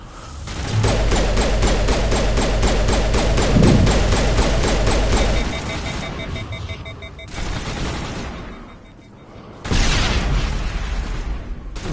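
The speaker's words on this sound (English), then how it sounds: "This is a very delayed explosion." Combat in the video game Mass Effect: a long run of rapid gunfire gives way to two heavy, broad blasts as a grenade goes off late, with the loud explosions standing alone and no talk.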